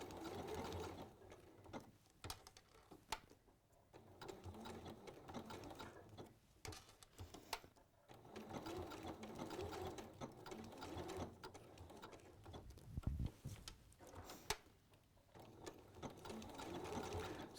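A sewing machine stitches slowly around curves in short, gentle bursts, its quiet mechanical whirring and ticking starting and stopping, while a faint voice speaks now and then.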